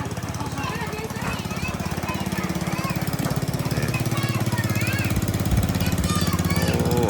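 A boat engine chugs steadily with a rapid, knocking mechanical rumble at six in the morning in the riverside town of Meuang Feuang, loud and continuous throughout, with faint background activity mixed in.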